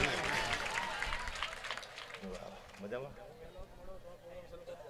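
Live audience applause at a Gujarati folk storytelling programme, a dense burst of clapping that starts loud and gradually thins, with talk and crowd murmur mixed in.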